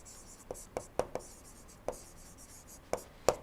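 Pen or chalk writing by hand during an engine performance lecture, heard as about eight short, sharp taps and strokes spaced irregularly, fairly close, over a quiet room with no voice.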